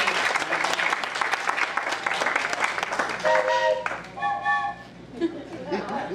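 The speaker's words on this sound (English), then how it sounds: "Give them a big round of applause." A banquet crowd applauds singers, with steady clapping mixed with chatter and a few chuckles, and a voice or sustained tones rising above the clapping partway through.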